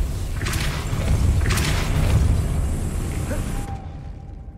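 A Depulso spell blast in Hogwarts Legacy lands as a heavy thudding boom with mechanical clatter, preceded by two quick whooshing bursts and fading into a faint tonal ring.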